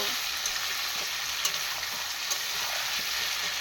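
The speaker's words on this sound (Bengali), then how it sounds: "আর এমনি করে মাংসটা কষে রান্না করলে না কোনো গন্ধ আসে না" Meat being fried and stirred in a pan for a home-cooked curry, a steady close sizzle with faint scraping and clinks running throughout, no talking.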